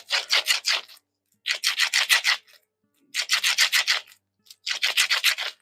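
Gloved hands kneading a stiff two-part adhesive sculpting putty, four bursts of rapid rubbing and squeezing strokes separated by short pauses, close and crisp, no talking.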